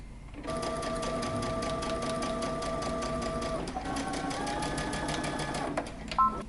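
A sewing machine runs in a steady, rapid stitching hum as it sews close to the edge of a jacket lining, pausing briefly once before continuing, then stopping with a small clunk.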